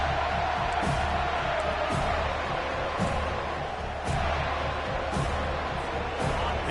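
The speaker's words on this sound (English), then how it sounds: "Decibels rising as the crowd gets behind this defense on 3rd down." A football stadium crowd at a Florida State versus Virginia game roars and cheers on third down, a dense, loud, continuous wash of voices that swells slightly throughout.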